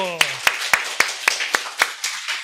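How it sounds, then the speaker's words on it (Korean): Church congregation clapping in praise at a Sunday morning service: about eight sharp, evenly spaced claps in a brisk unison beat, close and crisp, with a voice briefly heard at the very start. "하나님께 영광의 박수 하겠습니다."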